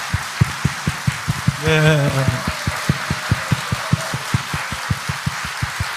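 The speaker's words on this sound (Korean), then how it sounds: "일어나 박수로 우리 한번 축복할까요?" A standing church congregation at Sunday worship claps in a brisk, even beat, loud and close, with a short spoken phrase and a sung note rising briefly over the rhythm.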